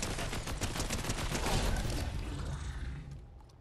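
Rapid gunfire from the video game Fortnite, a dense burst of shots that is loud at first and then tails off toward the end.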